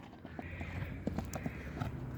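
A horse trotting, its hooves clip-clopping in a quick uneven rhythm at close range over steady background noise, with no talk.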